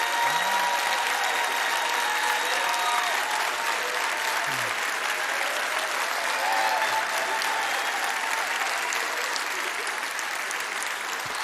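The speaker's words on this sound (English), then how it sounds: "A round of applause for the PPR All-51ers." A gala crowd at a high school football awards event gives long, steady applause for the All-51 team, with faint voices and tones threaded through the clapping.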